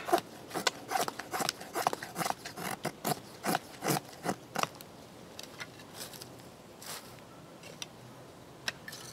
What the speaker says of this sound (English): So what I do is I just shave it down till I get the size fuel that I want and just use the shavings to start the fire with.